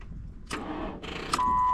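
Ford Crown Victoria with a badly dead battery trying to crank, two short weak cranking attempts with a click and a beep near the end, close and fairly loud.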